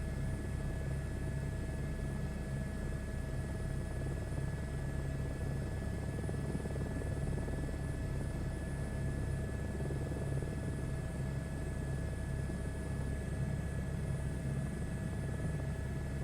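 Helicopter in flight just after takeoff on a late-night ride, heard from inside the cabin as a steady, loud rotor and engine drone with a constant whine, unbroken throughout.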